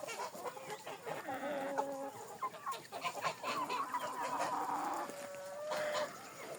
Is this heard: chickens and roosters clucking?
yes